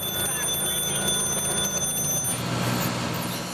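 Building alarms set off by lingering fumes after a fire ring continuously with a high, steady electronic tone, loud and unbroken throughout, with a shift in the background noise partway through.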